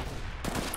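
M4 rifle fire in the game CS:GO, a dense burst of sharp shots over a constant game soundscape, with a slightly stronger report around the middle of the short burst.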